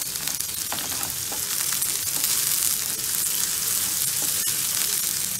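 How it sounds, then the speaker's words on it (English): Onions frying in a pan for Hyderabadi biryani, a steady close sizzle and crackle throughout with a few faint stirring clicks and no talk. "Onions are getting cooked, fried here."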